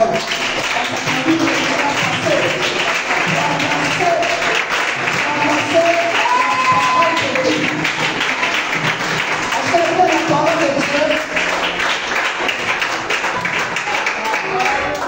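Steady applause from a church worship crowd fills the whole stretch, with cheering voices mixed in and some music or singing tones underneath.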